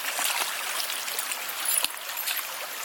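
Shallow creek water runs and trickles over rocks at Raven's Rocks in Ohio, a steady close hiss and burble with a few brief splashy peaks.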